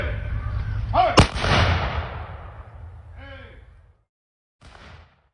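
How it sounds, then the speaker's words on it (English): A sharp, loud gunshot volley at a Memorial Day parade ceremony in a village, ringing out once over low crowd rumble and echoing away, followed by quieter sounds after a pause. "Gunshots and taps filled the air during a Memorial Day parade in the village of Hammondsport."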